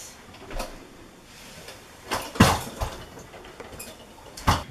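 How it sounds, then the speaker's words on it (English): A dresser drawer clatters and thumps as it is handled, with several sharp knocks and slides spread irregularly over a few seconds in an indoor room. "You see how our kids can unload their whole dresser drawers onto the floor"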